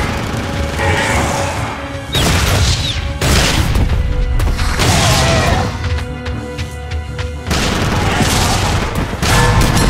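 Grenade explosions and gunfire in the Jurassic Park arcade video game, Raw Thrills edition: loud, continuous rapid shooting punctuated by several booming blasts and crashes, dense and close throughout.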